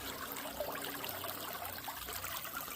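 River water rushing over a bedrock drop-off at a bend near a deep pool, a constant churning flow with steady splashing, fairly close and without voices.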